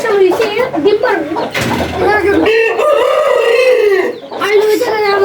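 Backyard chickens and roosters cluck and crow loudly and close by, repeated calls overlapping throughout with a brief noisy flutter in the middle.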